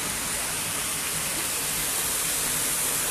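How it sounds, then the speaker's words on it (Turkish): Waterfall at the martyrs' monument in Erfelek, Turkey: a constant dense rushing roar of falling water, loud and unbroken throughout. "şehitlik anıtımızdaki muhteşem Şelaleyi de sizler için görüntüleyelim"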